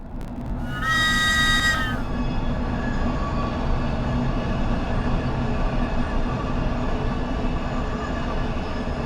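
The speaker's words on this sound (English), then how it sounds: "The Waterloo and City Line, otherwise known as the Drain, is a short underground railway line in London" A London Underground train on the short Waterloo and City Line, simulated in Train Simulator, rumbles steadily and loud throughout, with a brief tonal whistle-like squeal near the start.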